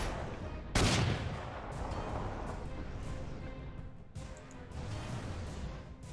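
Tank gunfire in the wartime strategy game Panzer Corps 2, one loud sharp blast near the start that fades into a rumbling tail, followed by lower battle noise and a few softer thuds.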